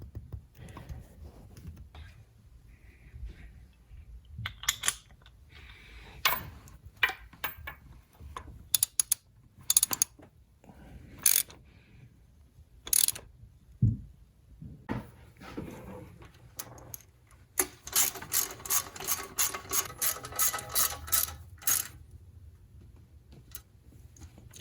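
A ratchet turns a 19mm deep socket on a Nissan 300ZX Turbo engine during reassembly, giving scattered sharp clicks with gaps, then a quick, even run of ratcheting clicks near the end, close and clear.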